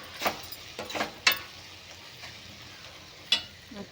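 Capsicum and masala are stirred in a frying pan, making a few sharp spatula scrapes and clacks over a faint, steady sizzle, with the strokes bunched early and one more near the end.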